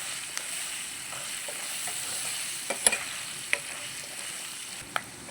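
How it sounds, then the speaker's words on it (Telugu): Curry leaves crackle and sizzle in a hot oil tempering for lemon rice while a spoon stirs the pan, with faint frying hiss and a few sharp scraping clicks. "కరేపాకు వేస్తున్నాను ఫ్రెండ్ ఒకసారి తిప్పుదాం"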